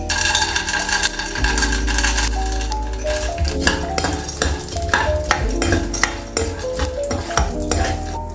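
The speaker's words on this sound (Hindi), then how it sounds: "जैसे ऑयल गर्म हो चुका है, मैं यहाँ पर 1 टीस्पून जीरा डाल रही हूँ, 1 टीस्पून राई, थोड़ी सी पीनट" Cumin, mustard seeds and peanuts fry in hot oil in a pan, a loud continuous sizzle and crackle with repeated clinks and scrapes of a spoon stirring against the pan.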